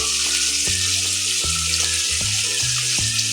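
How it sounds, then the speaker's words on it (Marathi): Tomato, potato, green peas and carrot with a pinch of asafoetida sizzle steadily in a pan for tava pulao, a continuous loud frying hiss broken by several soft clinks of stirring. "मध्ये चिमूटभर हिंग टाकून छान भाज्या शिजवू द्यायच्या"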